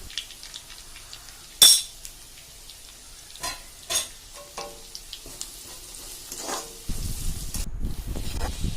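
Masala spices frying in a pan, a quiet sizzle with scattered clinks and scrapes of a utensil, a sharp clatter early on, and a louder steady frying hiss building near the end, with no talking.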